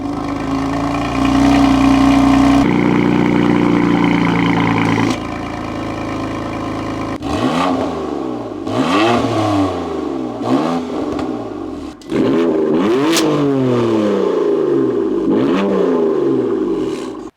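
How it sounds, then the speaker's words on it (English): A BMW M3 with an M Performance exhaust starts up into a steady idle, then is revved repeatedly, each rev rising and falling sharply in loud, close bursts with quieter idle between. "let's get a start up and a few revs with this one also"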